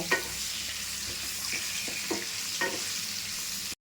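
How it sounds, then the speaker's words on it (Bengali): Potato pieces fry in oil with turmeric and salt, a steady close sizzle punctuated by several distinct scraping stirs of a spatula against the pan before cutting off. "এরপরে নুন দেব, দিয়ে ভেজে নেব। একটু নুন দিলাম, দিয়ে এবার একটু নাড়াচাড়া করব।"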